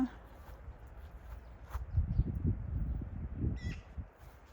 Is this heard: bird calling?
yes